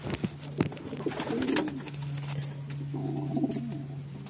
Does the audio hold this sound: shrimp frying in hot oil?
no